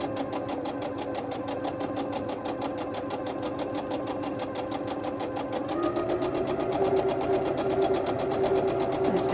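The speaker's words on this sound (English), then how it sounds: "let's go ahead and sew a 1/4 inch all the way around" A sewing machine runs steadily on a quarter-inch seam around a quilt block with interfacing, its rapid needle rhythm close and even, speeding slightly partway through.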